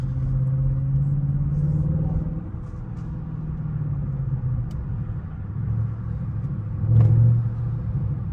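A Mercedes AMG GLE 63S with a custom exhaust rumbles steadily at low idle, a deep droning note that dips briefly and swells again near the end, heard close and alone.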